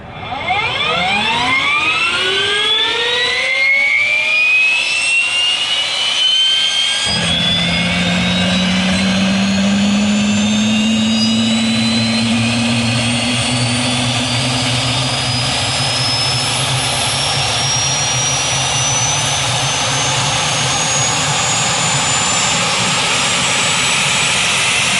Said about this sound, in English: Engine number 2. Start.